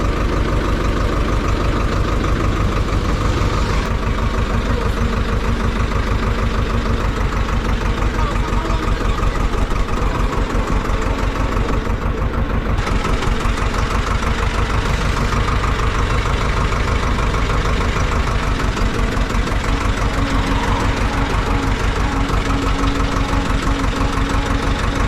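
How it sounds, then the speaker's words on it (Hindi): A tractor engine idles and chugs steadily throughout, a loud, continuous low rumble with rhythmic knocking and no pauses. "भाई साहब फाइनली ट्रैक्टर चला रहा हूँ मैं।"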